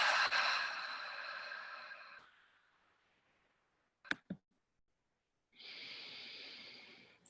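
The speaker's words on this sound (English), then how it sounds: "And breathe." Deep, slow breathing during a guided healing meditation: a long airy exhale fades into quiet, two brief soft clicks follow, then another steady breath rises near and clear, with no talking.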